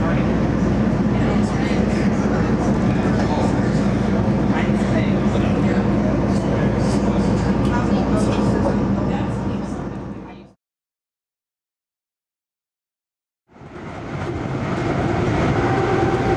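Two rebuilt NS-9 locomotives roll past with a train, a loud, steady rumble of wheels and engines that runs continuously, cuts to silence for a few seconds, then resumes just as strongly.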